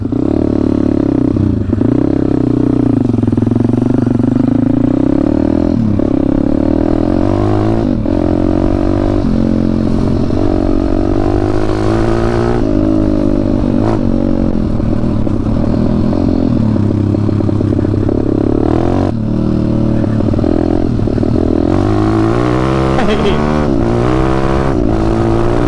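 A WPB 190 motorcycle engine fitted with a new NIBBI carburettor runs loud and close for the whole stretch, rising and falling through repeated revs and accelerations with mechanical clatter.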